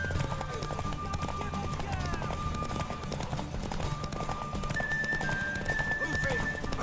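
A horse's hooves clip-clop in a steady, close trotting rhythm in a video game, with game voices talking over the continuous hoofbeats.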